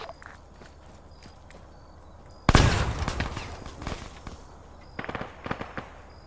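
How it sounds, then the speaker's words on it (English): A grenade detonates in a military shooter game with a sudden loud blast, followed by a few seconds of rumbling debris and scattered crackling, then a second burst of sharp popping near the end. "Grenade!"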